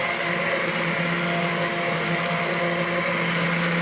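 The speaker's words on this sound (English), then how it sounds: "we take the immersion blender and be really careful because everything is hot" An immersion blender purees hot butternut squash soup, giving a steady, continuous whir that holds at an even level throughout with no voices.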